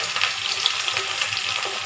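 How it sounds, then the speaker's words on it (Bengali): Pieces of fish frying in a pan at night, a continuous even sizzle with faint crackles, heard close and alone without any talking. "রাতের বেলা মাছ ভাজা হচ্ছে।"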